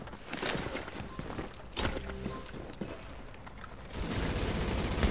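Gunfire in the video game Tom Clancy's The Division: dense bursts of shots and impacts fill the clip, rising into heavier continuous firing toward the end, with no talk.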